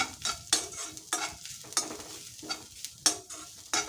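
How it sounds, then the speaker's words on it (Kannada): Grated coconut being stir-roasted in a hot pan with the stove off, for amla tambuli; a series of distinct scraping stirs of a ladle against the pan with soft sizzle between, near and fairly quiet. "ಕಾಯಿ ಹಾಕ್ಕೊಳ್ತೀನಿ. ಇದೇ ಬಿಸಿಯಲ್ಲಿ ಒಂದೆರಡು ಸುತ್ತು ಹುರ್ಕೊಳ್ತೀನಿ"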